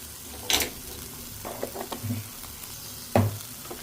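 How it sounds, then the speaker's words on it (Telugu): Broad bean curry cooking in a pan sounds as a low, faint sizzle, with a spoon scraping and stirring through it in a few distinct bursts, and no voices. "ఇప్పుడు ఇదంతా బాగా కలిసేలాగా కలిపేసుకోవాలి"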